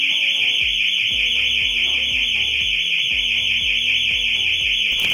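Showroom security alarm blaring continuously at high volume, a steady piercing electronic tone held throughout with repeated lower pulses beneath it, and no talking.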